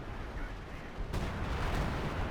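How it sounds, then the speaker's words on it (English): Zeroing artillery barrage in the World War II strategy game Company of Heroes 2: a low, dense rumble of distant shell fire that swells abruptly halfway through into a louder, sustained roar, with no talk. "if they're not fortifying, the zeroing artillery can easily kill them"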